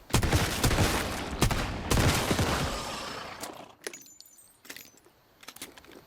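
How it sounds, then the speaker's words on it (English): Revolver fire in the game Once Human comes as a run of sharp, loud shots at the start with metallic clatter between them, then fades to sparse clicks and lighter mechanical rattles. "But the revolver is very satisfying to fire."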